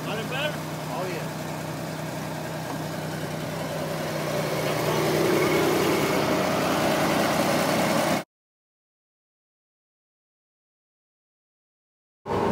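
A revived Rampside truck engine runs with a steady, rough mid-pitched drone that grows slightly louder, while people talk over it. It cuts to silence for several seconds, then the engine noise returns briefly at the end.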